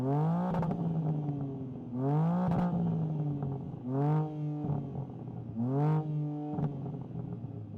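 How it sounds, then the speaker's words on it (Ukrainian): Car engine with no rev limiter, revved through its full range four times in quick succession, each rise sweeping sharply up then dropping back to idle, close and clear, with no speech. "тут немає обмежувача обертів, тож ви можете почути оберти у всьому діапазоні"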